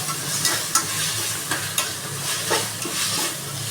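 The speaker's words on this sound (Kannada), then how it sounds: "ಈ ಥರ ಕೆಂಪು ಹುರಿರಿ." Onions frying and being stirred in a pan for mushroom pulao, a steady close sizzle with repeated scraping strokes of the spoon spread across the few seconds.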